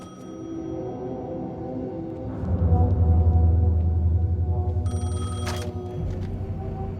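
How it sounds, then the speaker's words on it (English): Payphone ringing in the Alan Wake II video game, an electronic telephone ring over a low droning game ambience that swells in the middle, with a brighter burst toward the end. "The payphone was ringing."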